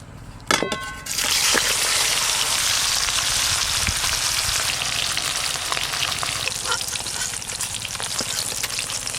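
Small river fish frying steadily in hot oil, a dense, loud, continuous sizzle that starts with a sharp crackling burst and holds strong throughout, with occasional faint pops and no voices.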